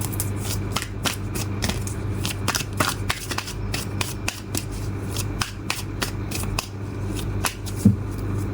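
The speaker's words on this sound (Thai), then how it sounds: "เดี๋ยวเรามาเปิดไพ่ l o c a l นะคะ" Tarot cards being shuffled, handled and laid out for a reading, heard up close as soft repeated riffles and flicks at a steady pace over a faint low hum, with no voices.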